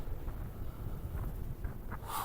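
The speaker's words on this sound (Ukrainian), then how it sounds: "І вітер тут дуже сильний." Loud, blustery wind at a wind farm near Truskavets, Ukraine, buffeting the microphone, a continuous low roar with gusty swells and a brief sharper gust at the end.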